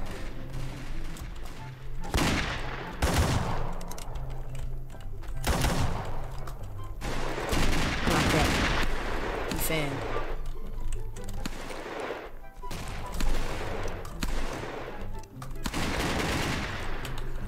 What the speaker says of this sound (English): I'm gonna actually shoot, so then I'm gonna be in danger. Yep, he's gonna try to shoot me. Shoot the guy! Shoot the guy!